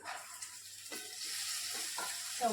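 Cowpeas tossed with a small spoon of turmeric get stirred in a pan, a quiet soft scraping with a few distinct spoon strokes over a faint sizzle, no talking.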